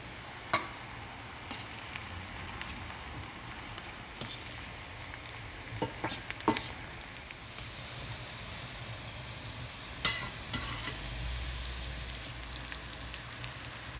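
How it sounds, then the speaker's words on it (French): Sliced onions sizzle steadily in hot oil, a continuous crackling hiss with occasional sharp pops and stirring clicks, close up and fairly quiet. "je jette les oignons émincés dans l'huile de friture"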